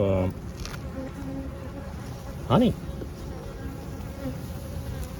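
Honey bees buzzing around an opened hive during a beekeeping inspection, a continuous low drone close by, with a man's short spoken word partway through.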